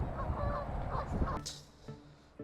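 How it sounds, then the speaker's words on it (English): A duck calls in the background outdoors, with a couple of short, honking quacks standing out near the end after a stretch of rumbling background noise. "This duck that keeps quacking in the background, he agrees with me."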